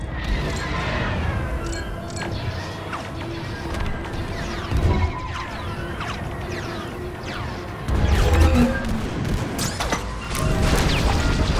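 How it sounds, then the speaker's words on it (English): Starfighter weapons in the space combat video game Star Wars Squadrons fire in a steady stream of rapid blaster shots and impacts, with louder bursts near the end, over a continuous engine hum. "fire on that target!"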